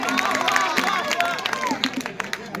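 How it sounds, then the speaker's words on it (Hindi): Audience applause at a mushaira poetry recital, a crowd clapping steadily and fairly close with voices murmuring through it. "एक बार जोरदार तालियां बजाइए"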